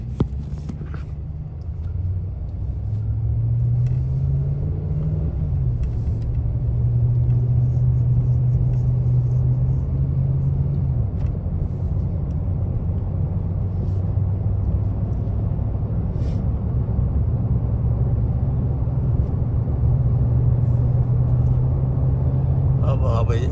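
Road traffic on a highway approaching Montreal, heard from inside a moving vehicle as a steady low engine rumble and road hum with droning pitch, while someone talks over it throughout.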